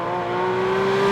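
Porsche race car engine out on a track, most likely a 911 GT3, GT4 RS or GT3 RS, holding a steady, loud high-pitched tone that builds slightly over a short stretch, with no voices.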